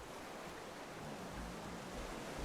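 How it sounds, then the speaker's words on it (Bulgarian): Big ocean waves in the survival game Raft, a steady, wide wash of surf noise that swells and rolls continuously, with deeper low surges toward the end and no voices. "Нещо големи вълни."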